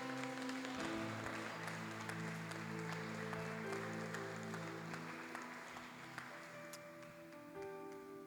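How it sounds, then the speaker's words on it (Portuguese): A church congregation applauds with a sustained, even clapping that runs the whole time, while an organ or keyboard holds chords underneath. "Pode aplaudir a Jesus."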